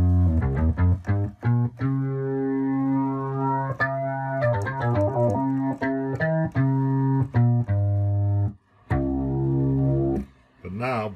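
Moog Voyager analog synthesizer playing a sequenced line on its own: a busy, rhythmic run of bright, buzzy notes with uneven accents and a couple of short gaps near the end.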